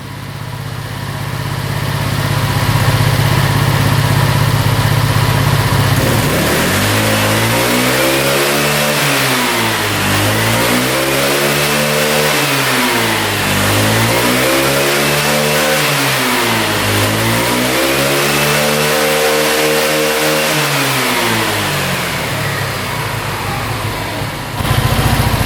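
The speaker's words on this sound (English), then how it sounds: "That is revving out great." A small engine revs up and down in repeated rising and falling surges, loud and close, after a few seconds of steady idling.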